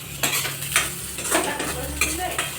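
Onions frying in a kadai for Maggi noodles, a steady sizzle broken by repeated scraping stirs of a spoon against the pan, close and fairly loud, with no talk.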